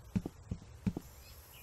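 Horses on a farm in the video game Farm Expert 2017 give off a few brief, soft hoof-like thuds and snorts over quiet game ambience.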